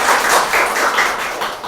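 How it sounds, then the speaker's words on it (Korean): An audience at a talk concert about North Korea fake news applauds a speaker, giving a dense, steady wash of clapping from start to end. "정대진 박사님께 뜨거운 박수"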